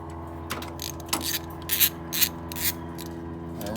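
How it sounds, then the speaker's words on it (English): A 1/4 inch drive ratchet with a 13 mm socket works on the distributor of a classic air-cooled Volkswagen, giving a few short, irregular clicking bursts, near and fairly quiet, over a steady low hum. "And I take my 1/4 inch drive, my 13 millimeter."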